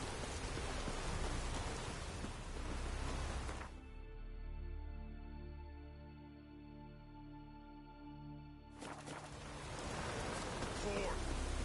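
Heavy rain falls in a steady, dense hiss, close and loud. It drops away for several seconds in the middle, leaving a low tonal hum, and then returns at full strength.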